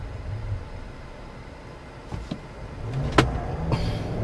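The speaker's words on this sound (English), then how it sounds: "Let's do a slight acceleration run." 2022 Chevrolet Silverado ZR2 pickup with a 6.2 liter V8 pulling away from a stop under light throttle, a low steady engine rumble with a few sharper clicks and thumps over four seconds, recorded from inside the cab.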